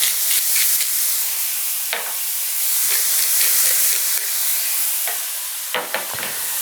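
Finely chopped ingredients seasoned with salt and pepper sizzle and hiss steadily in a pan while cooking toward a sausage cream sauce for orecchiette, with occasional stirring clatters breaking through the close, continuous frying.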